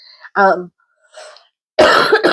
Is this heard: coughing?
yes